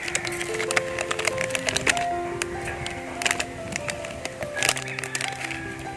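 Dairy Milk chocolate is broken into small pieces for a shake, giving a series of sharp, close snaps and cracks at irregular intervals over faint background noise.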